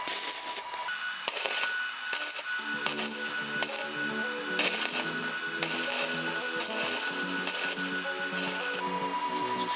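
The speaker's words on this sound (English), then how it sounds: "File inside the hub with a file to remove excess welding flux." Hand file scraping inside a welded steel hub for a rope pump model, clearing welding flux with continuous rasping strokes and metallic scratching, close and fairly loud, no voices.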